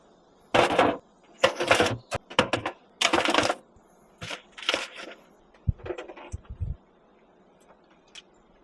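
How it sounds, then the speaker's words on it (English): Plastic wrap being pulled and stretched over beef cheeks in a pan topped with beef tallow, a series of close crinkling, tearing bursts in irregular clusters with short pauses between them. "what I'm doing here is wrapping this in plastic wrap"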